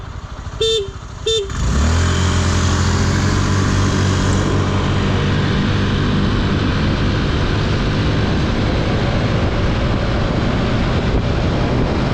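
A 2018 Suzuki Address V125 scooter engine during a test ride. After two short horn beeps it revs up and drones loudly and steadily as it accelerates, with heavy wind rumble and no talking.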